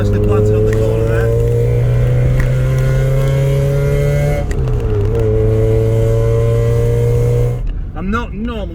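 Mazda Eunos sports car engine on a test drive, a loud continuous exhaust drone holding a steady pitch, then dipping briefly on a gear change before settling back, heard close from inside the car until it cuts away near the end.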